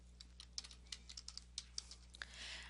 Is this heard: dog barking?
no